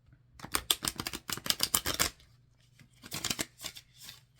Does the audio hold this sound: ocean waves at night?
no